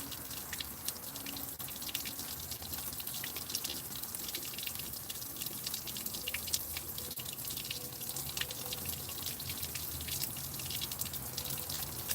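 Water runs from a tap in a steady, faint splashing stream, with soft drips and trickles and no voices.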